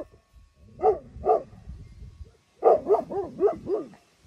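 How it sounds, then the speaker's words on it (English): A couple of Maremma guard dogs bark outdoors, two separate woofs followed after a pause by a quicker run of five or six barks, fairly close and clear against a quiet background. "There goes a couple of Marema guard dogs there."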